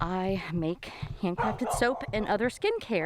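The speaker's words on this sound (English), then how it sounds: "that's our neighbor's dog, you can hear" A neighbor's dog on a goat homestead yips and barks in short bursts beneath a person talking steadily close to the microphone.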